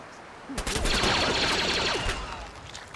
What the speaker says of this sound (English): I'm just cutting loose with this blaster